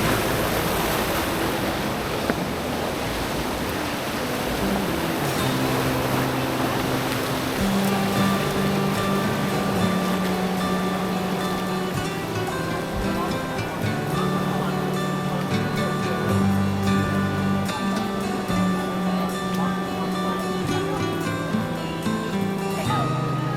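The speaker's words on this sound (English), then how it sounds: "Wave maker." Water churned by a wave maker at the Mingshui ancient town springs in Shandong, a steady broad rush of surging, bubbling water running throughout, with people talking nearby and sustained tonal sounds layered over it.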